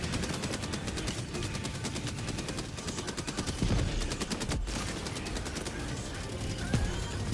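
A heavy machine gun emplacement firing in a video game, rapid evenly spaced shots forming a continuous rattling stream for several seconds, moderately loud amid other game noise.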